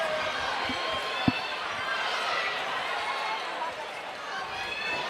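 Crowd at a Perth corporate charity boxing event, Critchell vs Ferreira, cheering and chattering between rounds as a broad, steady roar with one sharp bang near the start.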